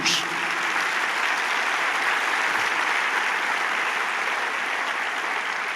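Steady, dense applause from an audience at a church devotional service, sustained and fairly loud throughout without a break.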